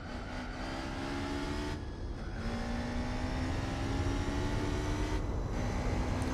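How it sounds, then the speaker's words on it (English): A race car with a modified engine sound in Gran Turismo 4, running a 24 Hours of Nürburgring race, holds a steady sustained drone with clear harmonic tones and brief dips in pitch as it shifts gears. "this is one of those cars which got an modified engine sound, and it sounds really good"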